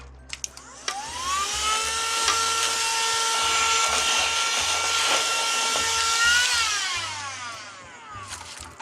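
A vacuum cleaner sucks up loose craft glitter from making a deco mesh Christmas wreath, its motor whining steadily and loudly at close range for several seconds, with rattling pickup noise, before spinning down at the end.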